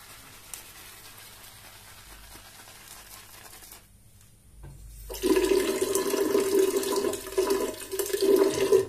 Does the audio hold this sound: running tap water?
yes